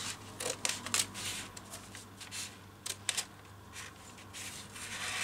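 Scissors snip through a fabric dress panel, cutting out the front neckline of a child's A-line dress in quiet, close, irregular bursts of crisp rasping strokes.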